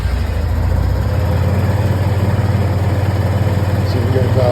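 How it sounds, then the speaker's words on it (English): A carbureted engine idles steadily after a couple of throttle bumps, warming up with a low, even rumble that holds unbroken and close throughout. "See if we can dial this carb and let her warm up."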